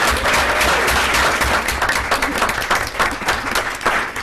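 Dense, steady applause from an audience at a Hingham Board of Selectmen meeting, loud and continuous across the whole stretch with no talking over it.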